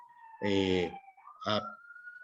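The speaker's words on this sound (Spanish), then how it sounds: "hay como una ambulancia o algo así que suena" Ambulance siren outside, a steady wavering tone carrying on faintly in the background while someone talks over it.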